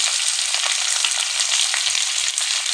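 Chopped onion, ginger and garlic fry in oil with a loud, dense, continuous sizzle close up, broken by a few soft knocks.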